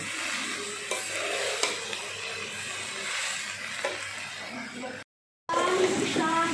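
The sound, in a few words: stirring cauliflower and vegetables in pan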